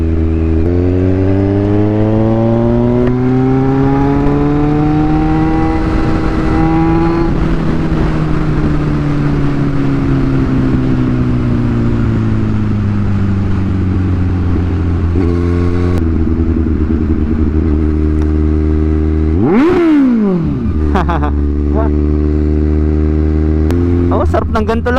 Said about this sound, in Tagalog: Kasi kaya natin ginamit ngayon tong motor natin.